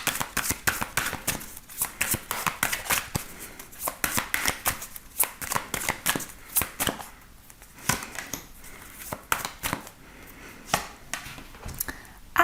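Tarot cards are shuffled close up in quick, irregular bursts of crisp slapping and riffling, with no talk over the shuffling.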